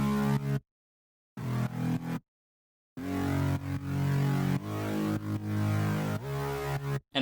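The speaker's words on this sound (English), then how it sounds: "So I used Focus 1 on the growl bass." A growl bass in an electronic drop, processed with a Focus 1 plugin's drive for added color: gritty, harmonically rich bass phrases in chopped bursts separated by short silences.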